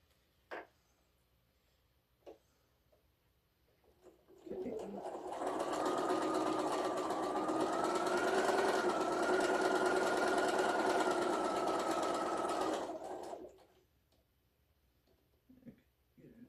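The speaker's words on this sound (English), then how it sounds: "I've held them together at the seam I'm going to sew" Sewing machine stitching a quarter-inch seam on quilt pieces, a loud steady whirring hum that runs for about nine seconds, framed by quiet handling and a few soft clicks before and after.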